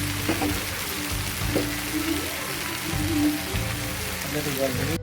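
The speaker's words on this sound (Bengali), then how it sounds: "মাংসও অনেক ভালোভাবে ভাজা হচ্ছে" Chicken pieces frying in a pan in a home kitchen, a dense steady sizzle like rain running throughout, loud and close, with low bubbling underneath.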